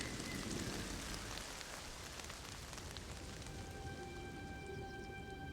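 Steady patter of rain with large raindrops falling through a thunderstorm, a dense continuous hiss of drops hitting surfaces, fairly soft and even throughout with no voices.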